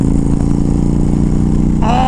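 A motorcycle engine tuned with a Moore Mafia ECU flash runs loud and close in a steady, throaty drone, rising in pitch at the very end as the rider blips the throttle.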